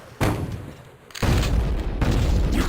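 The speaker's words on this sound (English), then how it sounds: "what are all these explosions I'm hearing?" Explosions from the shooter video game Shadow Warrior: two heavy, booming blasts with a sharp onset, the second sustained into a continuous low rumble of gunfire and detonations, loud and close with no talk.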